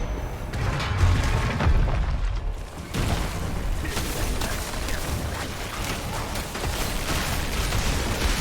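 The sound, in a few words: trap explosion in Diablo 4 video game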